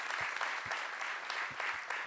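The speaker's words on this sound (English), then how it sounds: "if we could just do a round of applause," An audience at a live-streamed bio summit gives a round of applause, a soft, steady patter of many hands clapping at a distance.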